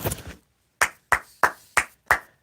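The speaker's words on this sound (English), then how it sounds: "let's give him a round of applause here." One person claps slowly and close up during a livestream. There are about six sharp, separate claps with short silent gaps between them, and no voices.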